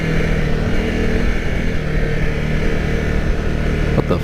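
Honda CRF 250 Rally motorcycle engine running steadily and loud up close, a constant throttled drone with slight surges, a brief sharper burst near the end.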